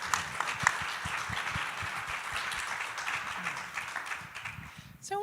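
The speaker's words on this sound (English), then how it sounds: "Whew, round of applause." Audience applause greets an honored writer being introduced at a talk on addictive connections, a steady, moderately distant wash of clapping that fades as a voice begins at the end.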